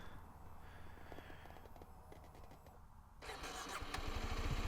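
A Kawasaki Ninja 125 motorcycle, one that may have a fault, cranks and catches partway through, settling into a steady, close engine run that grows louder toward the end.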